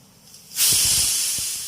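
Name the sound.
pressure cooker whistle releasing steam while boiling mango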